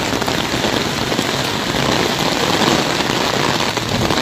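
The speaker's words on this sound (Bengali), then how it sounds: "সিল কিন্তু পড়েই যাচ্ছে একের পর এক" A hailstorm with heavy rain in Arambagh, a dense, constant roar of rain pounding surfaces that holds at one level throughout, loud and with no voices.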